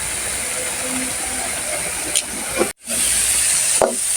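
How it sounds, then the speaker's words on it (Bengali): Steady broadband hiss of red amaranth greens simmering in a pan as the water evaporates, with a couple of brief clinks and a short dropout partway through. "পানিটা শুকাচ্ছি এখন লাল শাকের"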